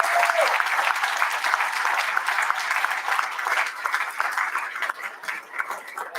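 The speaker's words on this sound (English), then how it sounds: "I'd like to hear a round of applause for them" A council chamber crowd applauds at an annual borough council meeting, steady sustained clapping from many hands filling the room, fairly loud and continuous throughout.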